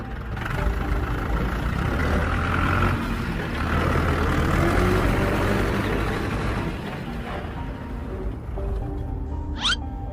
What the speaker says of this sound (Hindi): थोड़ी देर बाद उन्हें एक मॉन्स्टर ट्रक की आवाज़ आती है।